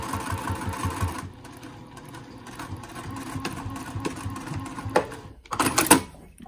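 A sewing machine stitches a fabric mask, a steady close mechanical whir running for several seconds before it stops, then a few brief louder clatters near the end.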